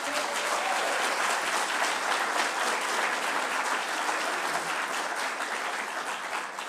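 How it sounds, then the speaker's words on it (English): A crowd at a 2019 Malden mayoral forum gives a round of applause: a thick, even wash of clapping from many hands that holds steady throughout, moderately loud and slightly distant. "Let's give her a round of applause."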